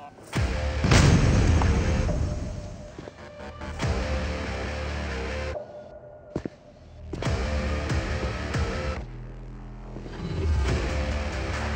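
Grenade blast in the mobile shooter Critical Strike on a defuse-mode Italy map: a sharp, loud boom near the start followed by rumbling explosions, whooshes and gunfire-like bursts, cutting out briefly in the middle before resuming.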